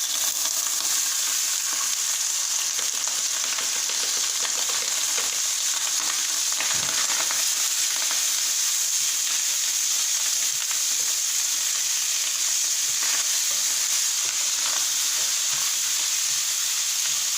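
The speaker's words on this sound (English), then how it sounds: "Just stir the rice this way." Rice being stirred as it fries in a pan, a steady close sizzle and hiss with soft scraping stir strokes running throughout, no voices.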